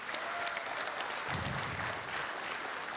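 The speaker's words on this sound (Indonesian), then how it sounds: "Wah, luar biasa tepuk tangan untuk TNI AU nih." An audience at a stand-up comedy show applauds for the Indonesian Air Force, dense steady clapping that fills the room throughout with a low rumble of crowd noise beneath.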